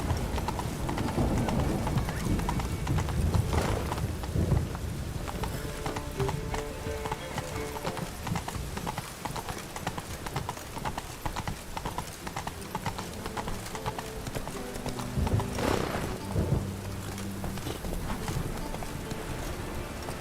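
Horse hooves clip-clopping at a steady galloping rhythm in The Witcher 3: Wild Hunt on PC, with occasional whinnies and game music layered throughout.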